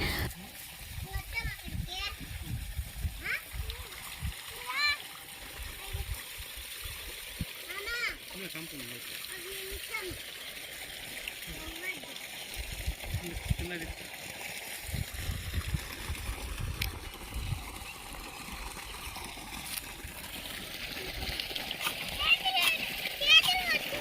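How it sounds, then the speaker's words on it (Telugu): Children splash and play in water during a summer outing, with steady splashing and rushing water under almost constant children's chatter and shouting throughout. "పిల్లలు అయితే వాటర్లో అసలు బయటకే రావట్లేదు"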